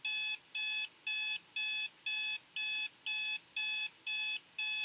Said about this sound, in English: Dia hits her alarms.